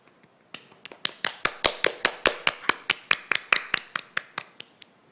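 Single pair of hands clapping at a general assembly session, about twenty sharp, evenly spaced claps in a steady rhythm, close and clear, rising then tapering off, with no crowd or voices.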